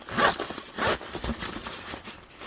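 Zipper on a homemade waterproof travel shoe bag being pulled open in several short, close, raspy strokes with brief pauses between them.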